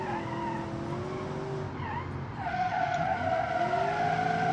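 A car in the BeamNG driving game slides under heavy handbrake, its tires squealing in long wavering tones over engine drone, dipping briefly before a fresh, louder skid screech.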